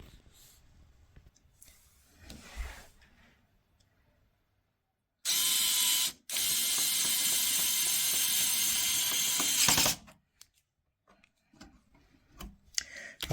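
Fittings being tightened on a simple streaming rack's power unit, with light clicks and handling noises around two loud, steady broadband bursts of a power driver running for several seconds near the middle, then scattered ticks and knocks.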